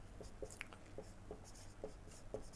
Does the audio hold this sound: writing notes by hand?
yes